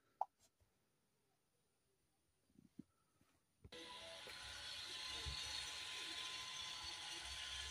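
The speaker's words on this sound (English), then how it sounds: "we can hear the motor rewinding or retracting" After a few faint clicks, the electric parking brake caliper motor on a 2022 BMW 320i G20 whirs steadily as it retracts, a continuous close hum that keeps running to the end.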